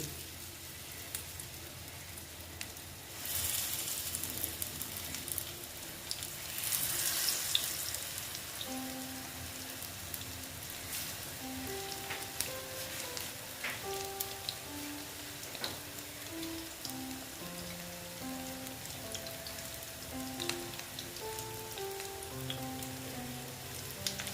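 Banana flower fritters frying in hot mustard oil, a steady soft sizzle and crackle with a brief louder burst early on, continuing quietly without talk.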